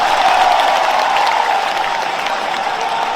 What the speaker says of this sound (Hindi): खुद ताली बजा लो अपने हाथों से।